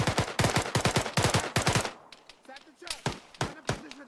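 Rapid bursts of automatic gunfire in the video game Arma 3 crackle in quick succession, then scattered single shots ring out farther away, sharp and punchy.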